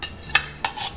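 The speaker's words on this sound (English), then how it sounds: "I'm going to shift this pan onto the" A pan holding jaggery is shifted across a home stove onto a medium flame, giving two brief, close metallic scrapes a fraction of a second apart.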